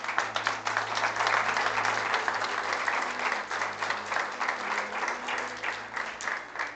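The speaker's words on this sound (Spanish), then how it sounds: "Dale un aplauso al Señor." A church congregation applauds together in a sustained wave of clapping, steady and full throughout with a few murmured voices mixed in.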